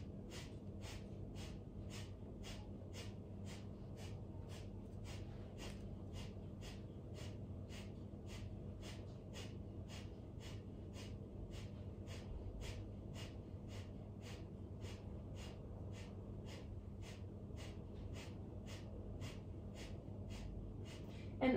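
Rapid, evenly paced breath of fire during a kundalini yoga session: a long steady train of sharp rhythmic exhalations through the nose, roughly two per second, close and continuous, over a low hum of background noise.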